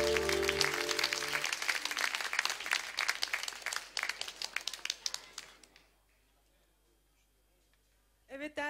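Audience applause for a singer at a village gathering, loud and dense at first with some music underneath, then thinning to a few scattered claps and silence before a voice starts speaking at the end.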